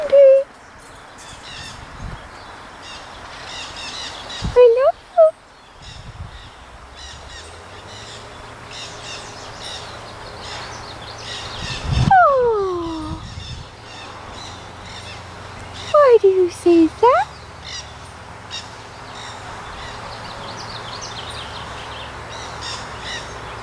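Nanday parakeets give a few loud, harsh screeching calls in bursts, close by, with other songbirds chirping faintly in the background.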